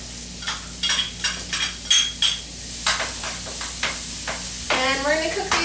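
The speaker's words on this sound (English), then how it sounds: "next we're going to add some onions to the pan" Chopped white onions hit a hot pan and sizzle while being stirred, with a steady hiss broken by repeated scraping strokes and a few clinks of utensil on metal, close and fairly loud, with no talking.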